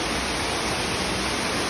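Steady broadband roar of a falls reached after a 400-step descent, cold water pouring continuously at close range, even and unbroken with no voices over it.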